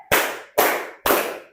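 Three sharp, loud claps from children in a classroom clap game, evenly spaced about half a second apart, each a crisp burst that fades quickly.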